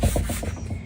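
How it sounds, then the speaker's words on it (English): Journal pages are sanded to rough up their slick surface, a close, rhythmic scratchy rubbing with quick back-and-forth strokes. "So I will go ahead and get those 3 pages sanded down."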